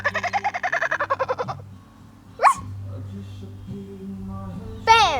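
A child imitates a bird, a quick series of rhythmic chirping calls lasting about a second and a half, followed by a quieter stretch with two short bright squeaks and a low hum underneath.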